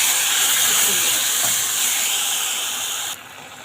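Tomato juice poured onto fried golden garlic in a hot pan while cooking kobeiba: a loud, steady steaming hiss and sizzle that holds for about three seconds, then drops sharply to a quieter simmer.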